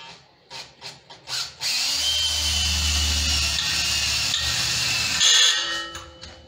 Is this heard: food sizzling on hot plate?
no